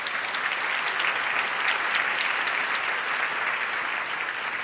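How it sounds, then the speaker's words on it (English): Sustained, even applause from a large audience greets a guest speaker at a public event on the politics of food, a continuous wash of clapping with no talk over it. "Give him a round of applause."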